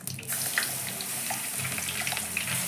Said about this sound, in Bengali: ফোড়নটা থেকে যখন সুন্দর গন্ধ বেরোবে তখন আমি ডালটা ঢেলে দিচ্ছি।